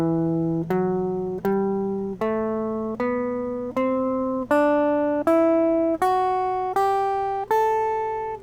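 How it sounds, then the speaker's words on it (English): A guitar scale rises note by note, each of about eleven notes played with an upward pick stroke at an even, unhurried pace, each ringing clearly on its own with no talking. "except for in this case you're picking towards the ceiling or upward"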